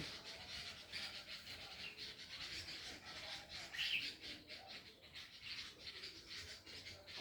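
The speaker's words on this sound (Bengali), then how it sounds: "এরকম পাখির আওয়াজ থাকলে ব্যাকগ্রাউন্ডে মিউজিকের আর দরকার হয় না" Birds chirp and call softly in a home garden, a faint continuous chorus with a brief brighter call near the middle, heard alone over low outdoor ambience.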